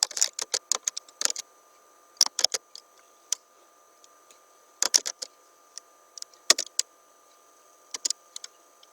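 Someone types C++ code on a computer keyboard in quick, irregular bursts of crisp key clicks with short pauses between, close and otherwise quiet.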